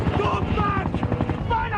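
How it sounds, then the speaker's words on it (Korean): A helicopter flies toward a rescue ship in a scene from the TV series Lost, its steady rotor drone running continuously and fairly loud, with voices and other scene sound mixed over it. "잭 일행이 연료 없는 헬기로 구조선에 접근."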